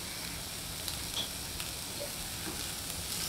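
Sliced capsicum frying with onion in a pan: a steady, close, moderately loud sizzle with faint stirring scrapes and no voice.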